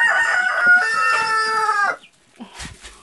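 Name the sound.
chickens clucking and rooster crowing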